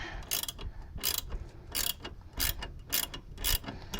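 A ratchet wrench clicks in quick, uneven bursts while tightening a lower control arm bolt on a 1997 Nissan Maxima, close and fairly quiet.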